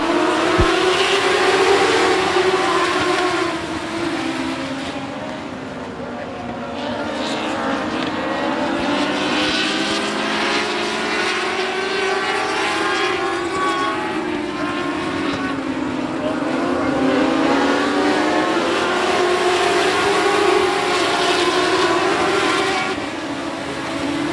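Race cars accelerate on a restart at I-37 Speedway: several engines blend into a loud, continuous roar whose pitch rises and falls as they pass, sustained for the whole stretch without voices.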